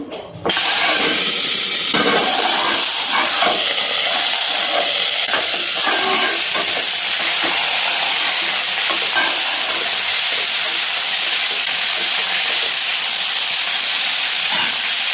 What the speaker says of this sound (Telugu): పచ్చిమిరపకాయలు వేపుతున్నా